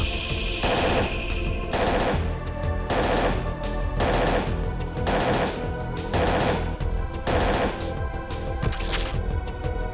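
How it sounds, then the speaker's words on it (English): Repeated loud bursts of gunfire in the video game Parasite Eve II, coming in a steady, regular rhythm of shots about every second over a dense, continuous game soundtrack. "Just keep shooting."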